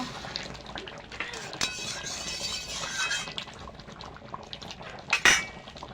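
Egg, potato and masoor lentil curry being stirred in a pot, a close run of scraping and clinking of a metal spoon against the pot over a low simmering bubble, with a louder clatter near the end.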